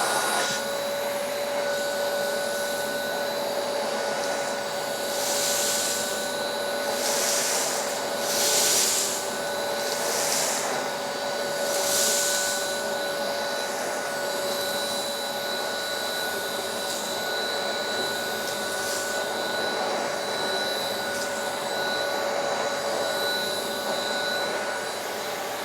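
Truvox VTVE-C compact tub vacuum cleaner running steadily nearby, a constant whirring motor hum with a high whine and occasional brief surges of rushing air as it sucks, no talk.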